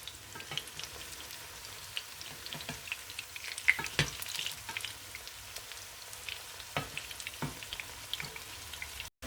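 Cabbage cutlets sizzle in hot oil in a pan, a continuous close frying crackle broken by scattered pops and a few sharper clinks, with no talk.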